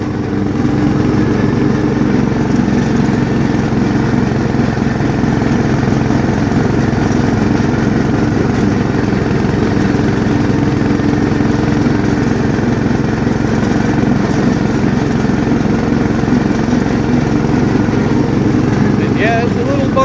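A riding lawn mower engine runs steadily at high speed for the whole stretch, a loud, constant mid-pitched drone close by with faint rattles from bumpy ground.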